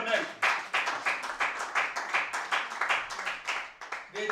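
A church congregation claps in a steady, quick rhythm through a sermon, with voices acclaiming loudly over the hand claps.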